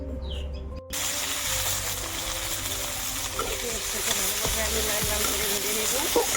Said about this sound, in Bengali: আমার পেঁয়াজটা ভালোভাবে ভাজা হয়ে গিয়েছে।